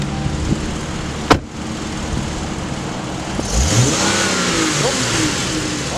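A Dodge Charger SXT AWD engine revs and pulls away, a steady mid-pitched drone that rises as the car accelerates after a sharp knock, close and without voices.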